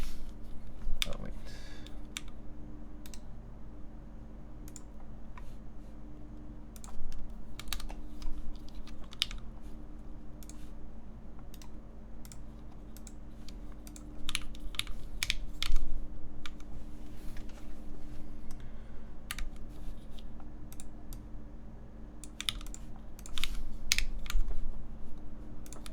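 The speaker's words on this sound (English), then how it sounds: "then we can try typing on this" Typing on a Percent Studio PT990 keyboard, a steady run of crisp clicky keystrokes with uneven rhythm and occasional louder clacks, close up over a low constant hum.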